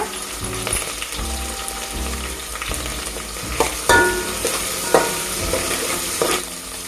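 Sliced onions fry in hot oil for a mushroom curry, a steady broadband sizzle with a spatula scraping and stirring them, a few louder strokes standing out near the end.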